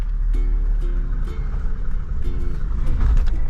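A car engine braking in first gear with the clutch released while descending a steep unpaved road in Africa gives a steady, close low drone with a faint tonal hum, and no one speaks.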